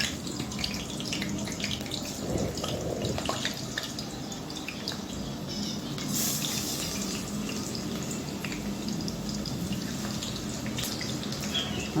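Potatoes fry in hot oil in a home kitchen. A steady, close hiss of sizzling and crackling runs the whole way through with no pauses.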